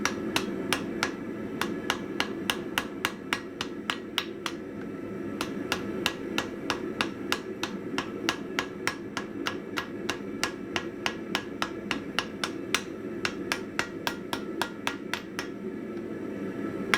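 Steady hammer blows forge-welding a chain link and its partner link for a hook, sharp ringing strikes in a fairly even rhythm with short pauses, close and alone.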